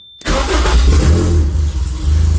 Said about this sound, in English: So put the key in ignition, turn it on